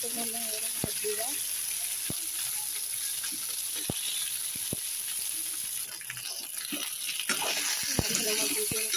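Mango pieces frying in a pan for an Odia amda khata, a steady soft sizzle with occasional sharp clicks and stirring scrapes, close and continuous with no voices.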